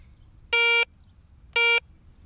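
A Garrett Ace metal detector responding to a pull tab with two short buzzy harmonic tones about a second apart, clear and close with no voices.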